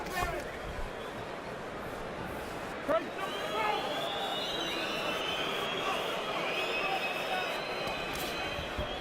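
A boxing arena crowd at a Timothy Bradley vs Joel Casamayor fight makes a steady, distant roar and murmur of reaction that rises slightly, running beneath a commentator's voice.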